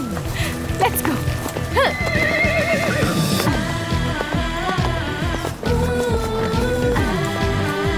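Horse neighs and whinnies over steady clip-clopping hooves during a horseback ride, close and lively, with voices speaking at times.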